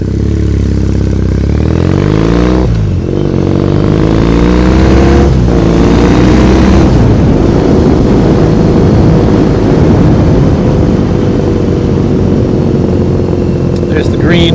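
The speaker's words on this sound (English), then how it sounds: "this aftermarket exhaust on a Bonneville is just, for me, it's a must. It just sounds so much better." Triumph Bonneville motorcycle fitted with an aftermarket exhaust, ridden through Tokyo streets, its engine rumbling steadily and loudly close up, with rising revs and gear changes throughout.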